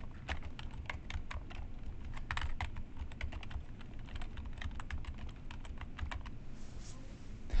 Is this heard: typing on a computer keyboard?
yes